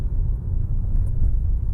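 A car pulls away in third gear after an upshift, giving a steady low engine rumble heard from inside the cabin, close and fairly loud with no speech.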